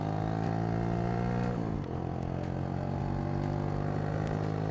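A motorcycle engine drones steadily and close while being ridden, its harmonic tone holding level with a brief dip and shift in pitch partway through, like a gear change.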